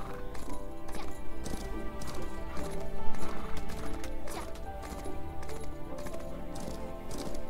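Horse hooves clip-clop in a fast, steady galloping rhythm in the video game Justice Online, loud and close, with game music and occasional clatter underneath.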